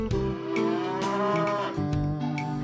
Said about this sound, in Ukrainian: правильно, це корова